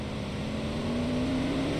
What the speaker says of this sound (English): is this the car that's super freaking loud?